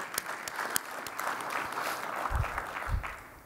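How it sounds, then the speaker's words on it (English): An audience claps through a brief round of applause at a conference event, a dense steady patter of hands that swells and then tapers off, heard at moderate distance with no speech. "That deserves a round of applause."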